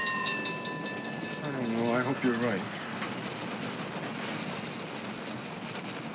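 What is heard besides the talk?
moving train, railroad cars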